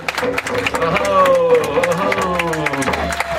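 Audience clapping and cheering at the Baystock 45 music event after the closing song, a steady crowd roar with applause under overlapping talk and lingering musical tones.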